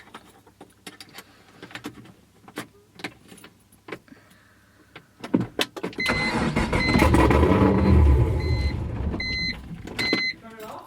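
BMW E46 with an LS3 V8 engine swap on its first start attempt: a string of clicks and ticks, then the engine cranks and catches into a loud, rumbling idle with chirping alarm-like beeps before cutting off.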